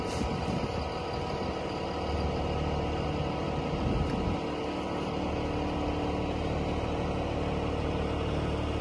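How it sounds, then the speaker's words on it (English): A rollback tow truck's engine runs at a steady low rumble with a vibrating hum while its bed is lowered, constant and close with no talk. "Now you bring the bed down the rest of the way."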